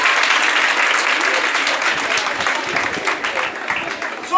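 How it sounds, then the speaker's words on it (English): A church congregation claps hands for Jesus during a sermon: dense, steady applause that fills the room, close and loud throughout, with a slight swell at the very end. "Clap hands for Jesus."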